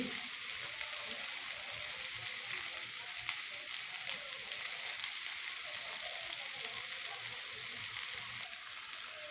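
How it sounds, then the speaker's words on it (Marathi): Okra bhaji with crushed peanuts cooking in a pan over a low gas flame, giving a faint, steady, even sizzle with fine crackles and no talking. "बारीक गॅसवर आपण आणखीन दोन मिनिट भाजी शिजवून घेऊ"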